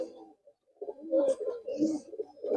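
Murshidabadi tumbler pigeons coo close by in a loft, with several overlapping low, throaty cooing bouts and brief pauses between them.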